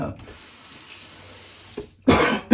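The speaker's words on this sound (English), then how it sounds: "Let me rinse my face." Water from a bathroom tap runs steadily into a sink while a face is rinsed during a shave. The flow then breaks into a few close, sharp splashes near the end.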